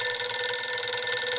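An old telephone bell rings steadily and loudly in a radio drama, a continuous metallic trill standing alone.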